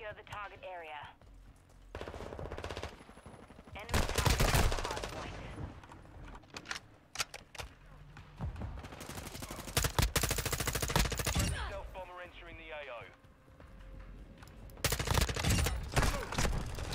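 Bursts of automatic gunfire and scattered shots from the video game Call of Duty Modern Warfare II, loud and dense in stretches, with brief quieter gaps and a voice speaking at times.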